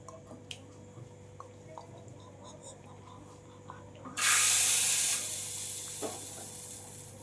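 Hot tadka poured into dal in a home kitchen bursts into a loud, sudden sizzle partway through after quiet drips and clinks, then settles into a steady, fading hiss.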